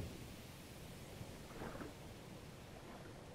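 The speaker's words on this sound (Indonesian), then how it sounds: "Oh, hujan." Steady heavy rain hisses throughout in a music video, with a low rumble of thunder swelling briefly in the middle; no voices.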